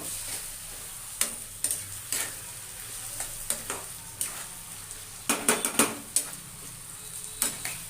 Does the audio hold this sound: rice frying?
yes